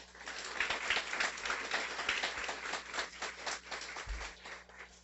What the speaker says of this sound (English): A round of applause for Sally.